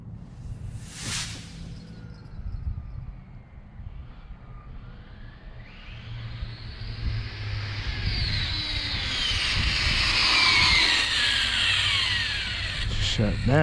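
An Exceed Mad Drift XLX RC car with a Castle Mamba Monster ESC is run at full throttle as the ESC cuts out: a high electric whine climbs steadily in pitch over a low rumble, then drops abruptly at the end.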